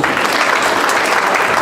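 Audience applause fills a hall at an international conference on digital innovations at Osmania University, a steady dense clapping that sounds continuous rather than three separate claps.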